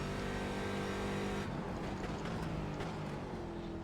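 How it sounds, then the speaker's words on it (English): A C7 Corvette race car in iRacing at Sebring, its engine a steady loud drone with a sharp change in pitch partway through, close and continuous throughout. "such a good sounding car"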